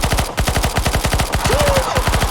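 Rapid automatic gunfire in the video game CS:GO, a loud continuous stream of evenly spaced shots with no pause across the whole stretch.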